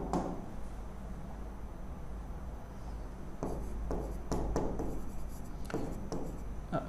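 Chalk or marker strokes sound on a classroom board during a maths lesson, with soft scratching and a few sharper taps in the second half over a steady room hum.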